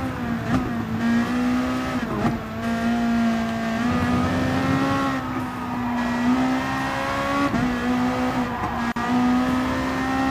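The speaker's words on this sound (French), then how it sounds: "vous entendez un peu ce son là, la petite gueule de la voiture" A Gran Turismo Sport race car engine drones loudly and steadily at a constant pitch, with brief dips and surges as the revs shift, close and alone.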